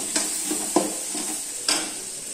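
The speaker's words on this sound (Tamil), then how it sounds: "கலக்கி விட்டுக்கலாம்." Tomato thokku cooking in a pan with green chilli and asafoetida, a soft even sizzle with three distinct spoon scrapes spaced out, close and quiet, with no voices.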